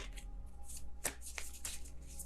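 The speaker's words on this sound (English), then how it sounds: "Kind of sloppy shuffle there." Tarot cards being shuffled by hand in a loose, sloppy way, with soft riffling swishes and a few sharper card snaps close up, no talking.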